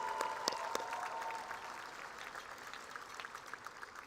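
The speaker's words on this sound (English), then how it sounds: "Let's give Miss Amy Stanwyck a big round of applause for her hard work as the class of 2026 advisor" High school graduation audience at Somersworth High School applauds, a crowd clapping steadily at moderate distance with a few sharp nearby claps and a brief whistle early on, fading gradually.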